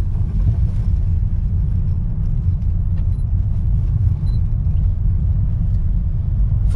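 Honda Jazz 2020 ZX top model cruising in fifth gear, a steady loud low engine and road rumble filling the cabin without a break, no voices over it.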